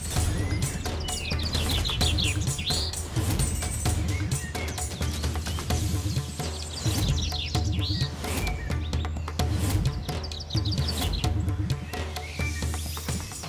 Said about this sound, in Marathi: पक्षी एवढा आवाज का करताय?